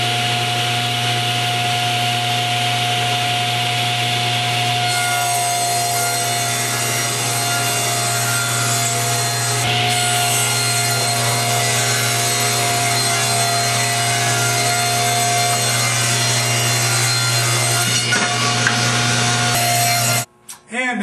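A table saw rips wood into picture-frame moldings for a 1.5 inch deep frame, a loud, steady whining cut with a constant motor hum that runs unbroken for about twenty seconds before winding down abruptly.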